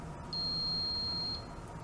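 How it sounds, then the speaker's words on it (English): A single sustained high-pitched electronic beep from a Bulldog-JW water leak sensor, lasting about a second, clear over a low background hum. "I'll let it go through 2 or 3 beep cycles just to show you nothing happens."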